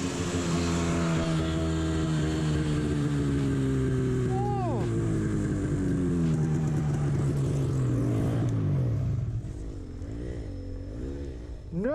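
A turbo snowmobile engine roars and revs, its pitch sweeping down and back up in repeated surges, loud and close, with brief voices mixed in.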